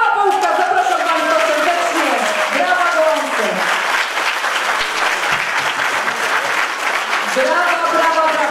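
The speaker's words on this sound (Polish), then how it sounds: "Brawa, brawa, brawa." Loud, dense applause from a charity auction audience during the Great Orchestra of Christmas Charity finale in Strzelce Opolskie, sustained throughout with crowd noise and a voice speaking over it.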